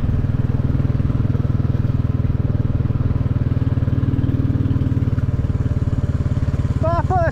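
A Royal Enfield Classic 350 motorcycle riding along a narrow retarred country road, its single-cylinder engine thumping in a loud, steady, even rhythm throughout, with a few high bird chirps near the end.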